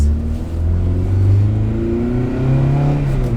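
A car engine, idling after sitting unused for several days of storm, revs up loudly and close by in a few smooth swells of low droning pitch, with no talking.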